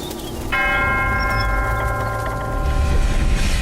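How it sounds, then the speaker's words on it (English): Bell-like chimes ring out in Black Myth: Wukong during a meditation rest, a sustained metallic tone with layered harmonics striking once and lingering, with a low ambient rumble underneath and no talk. "you're back meditating, listening to some relaxing chimes"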